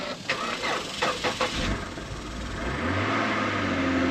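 A Ford Mustang engine cranks and catches after a few short clicks, then settles into a rising, steady rumbling idle close by.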